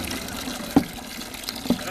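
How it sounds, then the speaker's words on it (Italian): Water running into a water balloon prepared as a summer prank, a steady splashing fill with a few sharp clinks and gurgles, close by under people talking. "Sto preparando un gavettone da fare al signor Valentino"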